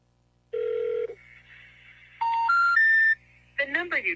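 A telephone call dialed to a number: a short tone, then a rising series of dialing beeps and tones, ending in a brief melodic electronic chirp, close and clear.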